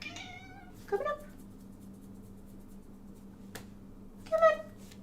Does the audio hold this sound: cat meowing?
yes